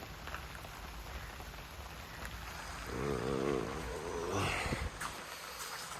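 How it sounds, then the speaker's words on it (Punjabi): Rain patters in a steady, even hiss throughout, with a short murmur of a voice partway through. "ਮੀਂਹ ਲੱਗਿਆ ਹੋਇਆ"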